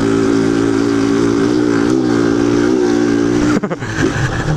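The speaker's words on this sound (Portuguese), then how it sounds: "Só uns toquinhos na embreagem a moto sobe." A loud motorcycle engine drones steadily at idle-like pitch, then stutters and briefly revs near the end.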